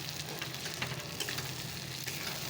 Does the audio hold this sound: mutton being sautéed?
yes